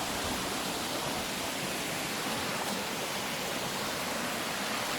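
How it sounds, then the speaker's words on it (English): Flowing stream beside a trail on Loch Lomond shores, a steady broadband rush of water running continuously and fairly close, with no voices. "at some point you arrive next to this stream"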